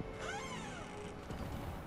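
A cat meows in the video game Hogwarts Legacy, a faint rising-and-falling mew over steady game ambience and background music, with no talk.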